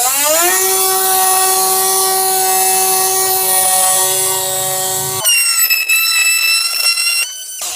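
A Parkside PFBS 12 C7 cordless rotary tool runs at full speed against a 1 mm metal plate, giving a loud steady high-pitched whine that rises at start-up, then grinds harshly and shifts pitch near the end.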